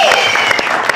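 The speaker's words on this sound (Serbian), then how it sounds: "molim vas još jedan veliki aplauz za Korinu" A live audience applauds a singer after a televised talent-show performance, a dense, steady wash of clapping filling the short moment at full, close loudness.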